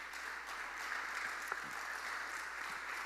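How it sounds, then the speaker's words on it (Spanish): A church congregation applauds during an evening service, a faint, even wash of clapping heard from a distance for a few seconds. "Denle un fuerte aplauso al Señor."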